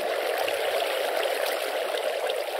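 Water flows steadily in the Spike Supercraft video game, a continuous close rushing of a stream that stays unbroken and even throughout, with no voices.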